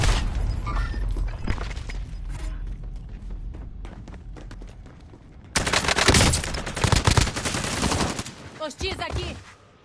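Automatic weapon fire in a PS4 shooter game, with rapid bursts and sustained rattling volleys, loud and close, pausing briefly before a heavier barrage; voices are faintly audible underneath.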